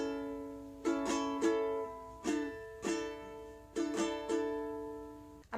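Ukulele played in the "Taxicab" strumming pattern with fingers lifted off and pressed back on the chords, about eight crisp strums in a bouncy rhythm with short choked gaps between groups, close and alone.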